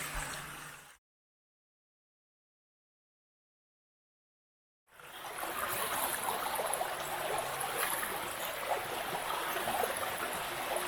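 Fresh river water at a Kenyan village riverside, a steady broadband rush and trickle of flowing stream, fairly close and even, starting after a few seconds of dead silence with no talk over it.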